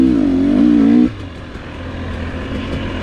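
A 2022 GasGas EC300 dirt bike engine under way on a trail ride, a close, loud buzzing drone that holds steady then drops suddenly as the throttle rolls off, settling into a lower, rougher running note.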